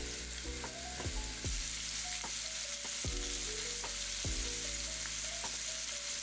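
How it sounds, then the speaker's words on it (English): Pork pieces browning in a hot skillet for a pork gravy stew give a steady, loud sizzle and crackle that holds throughout, with occasional clinks and scrapes from the pan and no voices. "now I'm just going to place them in our skillet and then I'm going to brown them on each side"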